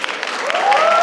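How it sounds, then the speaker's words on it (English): Audience applause swells into a short burst of clapping from a crowd at a school quiz event, with a tonal whistle-like sound rising through it. "give them a big round of applause for making it so far"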